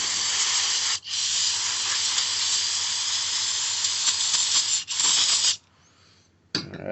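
Water spray hisses steadily as a Stihl BG 56 C leaf blower part is rinsed off, loud and continuous, with two brief breaks and stopping near the end before a short final burst.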